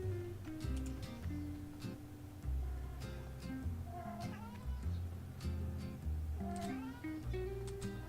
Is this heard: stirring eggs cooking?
no